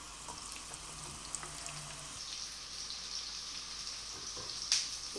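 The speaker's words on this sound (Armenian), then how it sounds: "սիրում եմ սոխի և յուղի այս տապակվելու ընթացքը" Steady, quiet sizzle of onions frying in oil, a continuous hiss with a few soft pops, no voices.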